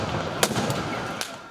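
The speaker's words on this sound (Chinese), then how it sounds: "现场炮声隆隆" Explosions boom during violent street protest clashes between demonstrators and police in Quito, Ecuador, with two sharp loud blasts standing out over a steady roar of crowd noise and distant commotion.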